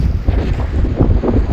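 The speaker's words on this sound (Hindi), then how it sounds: "बहुत ठंडी हवा चल रही है यहाँ पे" Cold wind blows beside a river in Ladakh, producing loud, continuous, rumbling buffeting on the microphone that drowns out any other sound.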